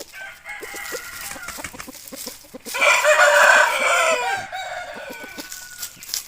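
Roosters crow loudly, one long crow standing out in the middle, while chickens cluck and chatter around it throughout.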